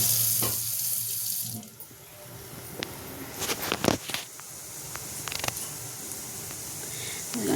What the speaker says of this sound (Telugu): మిక్సీ జార్లో కొంచెం వాటర్ వేసుకుని